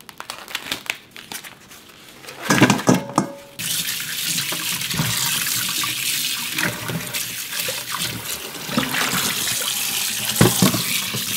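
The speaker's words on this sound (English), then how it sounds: "While this is boiling, I'm going to wash these bones and soak in cold water." A kitchen tap runs steadily into a sink while ox bones are washed by hand, with crinkling and clattering handling noises over the water flow. An initial quieter stretch precedes a burst of splashing.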